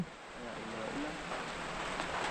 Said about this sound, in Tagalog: Ay, ang ulan.